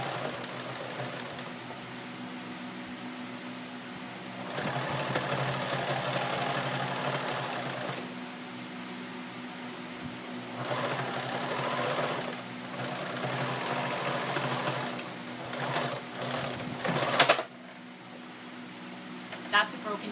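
Sewing machine stitching through three layers of old jeans denim, its motor whirring in bursts of different lengths that start and stop repeatedly, with a sharp snap near the end where the needle breaks.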